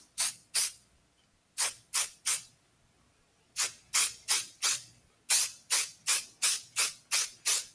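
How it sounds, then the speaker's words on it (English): Max Control hairspray is sprayed over the hair in rapid short hissing bursts, arriving in clusters of quick pumps separated by brief pauses, crisp and close. "I'm going to come in a bit of Max Control hairspray over the top."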